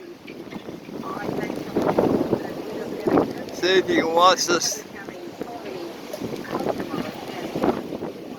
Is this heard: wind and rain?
yes